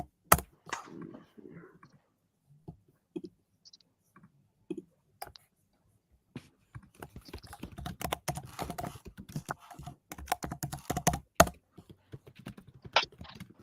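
Typing on a hard computer keyboard, with sparse isolated clicks at first that build into dense, fairly loud bursts of rapid keystrokes in the second half, with no talk over it.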